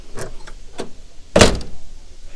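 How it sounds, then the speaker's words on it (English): Door of an antique Studebaker car that needs adjusting, a few light metallic rattles and clicks followed by one loud close-up clunk as it shuts, then a brief rattle. "That door needs adjusted."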